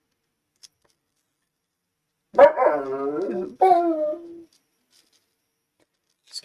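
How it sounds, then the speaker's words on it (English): A dog in the background of a quiet room lets out a single drawn-out, wavering howl-like whine lasting about two seconds, set against near silence with a brief spoken word nearby. "Excuse my dogs in the background."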